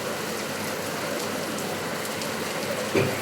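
Steady monsoon rain falls outside an apartment building, a continuous even hiss of drops on surfaces with one brief soft thump near the end and no voices.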